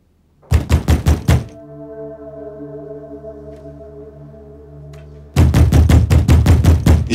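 Two bursts of heavy, rapid knocking on a door in a Turkish historical drama scene, about five loud thumps each, separated by a sustained low droning tone, the knocks booming and close.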